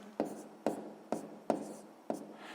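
Pen strokes write numbers for a sixth-grade fraction exercise on paper, five short, distinct scratches at an even pace, close and fairly quiet, with no voice.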